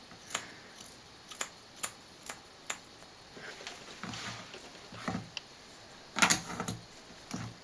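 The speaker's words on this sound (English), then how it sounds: "Again, I'm going to go quite vertical and snip down my finger." Scissors snip hair while a fringe is being cut, starting as a series of sharp, close clicks at a steady pace and turning into softer, irregular snips and rustling toward the end.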